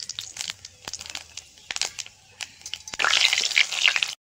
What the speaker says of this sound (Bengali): তেলের মধ্যে শুকনো লঙ্কা আর 5 ফোড়ন দিয়ে দেবো।